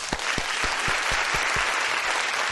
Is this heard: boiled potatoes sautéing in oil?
no